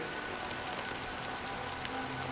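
Steady rain pours down throughout a Honkai: Star Rail video game cutscene, a dense, even hiss of drops striking surfaces with no voices.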